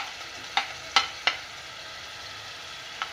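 Masala with garlic and ginger paste is stirred in a pan, giving a soft sizzle under four sharp scraping taps of a spoon against the pan, three close together early and one later.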